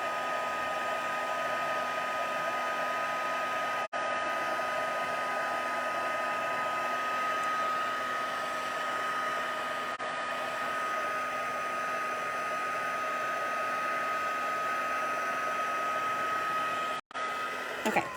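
A heat embossing tool blows steadily over embossing powder in a craft setup, a continuous loud dryer-like whoosh lasting the whole stretch with only a couple of brief breaks.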